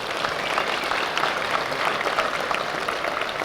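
Audience applause at a university honors program ceremony, a steady wash of many hands clapping at moderate volume, sustained evenly for a few seconds.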